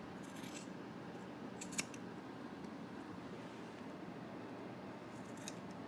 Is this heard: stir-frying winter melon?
no